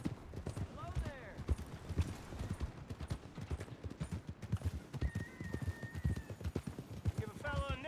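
Horse hooves clip-clop in a steady rhythm while riding in the video game Red Dead Redemption 2, with a couple of whinnies and voices talking over the gait.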